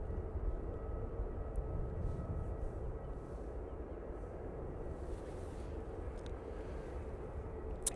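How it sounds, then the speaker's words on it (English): easyJet airliner arriving at Manchester Airport, a low, distant steady engine rumble with a faint whine, fairly quiet and without talking. "So, EasyJet coming on."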